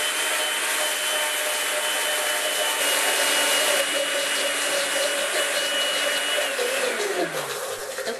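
A small, inexpensive kitchen blender runs at its highest speed, giving a loud, steady whirring drone that holds throughout and then starts to wind down near the end.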